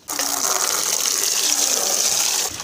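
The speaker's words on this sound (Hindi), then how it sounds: "हम अपने इस टब को पूरा पानी के साथ भर देते हैं" A large tub, meant for bathing ducklings, is filled with water from a tap: a steady, close gushing stream that starts abruptly and runs for a couple of seconds with no talking.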